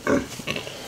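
A pig on a farm piggery grunts close by, a short burst of snorting oinks followed by a second softer grunt, with no talk over it.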